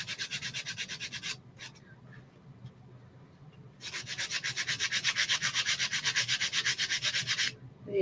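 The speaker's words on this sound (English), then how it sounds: "the nice thing about this sander versus one of those block sanders is that I'll be able to get into this arc a little easier" Small electric sander buzzing over wood cutouts in two loud, close bursts with a rapid pulsing rasp, separated by a brief quiet pause.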